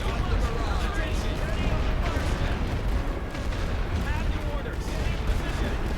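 Artillery firing a smoke barrage in a World War I trench game, a dense continuous rumble of booms and gunfire under a voice.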